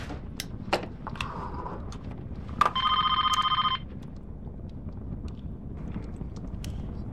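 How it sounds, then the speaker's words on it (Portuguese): A telephone rings once in a short electronic trill burst over a quiet room, with faint scattered taps and rustles around it and no talk. "Telefone pré-pago do exterior."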